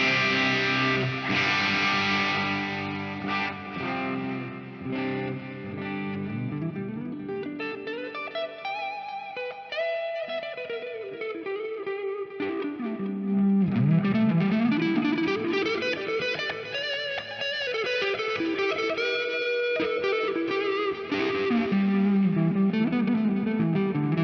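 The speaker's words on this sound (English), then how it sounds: "Now with delay and reverb." Electric guitar run through delay and reverb effects from a Plethora X5 pedalboard, sustained chords and sliding melodic lines trailing into echoing repeats and a lush wash, steady and continuous with no talk.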